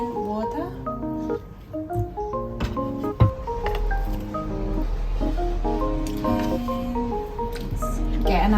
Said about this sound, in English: And put them in water.